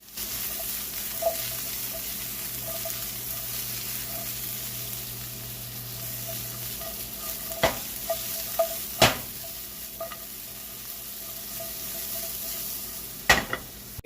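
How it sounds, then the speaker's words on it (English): Broccoli frying in a pan for a keto stir fry, a steady sizzle running throughout with occasional sharp clacks and scrapes of stirring, fairly close and with no talk. "Fry them up until they get nice and cooked"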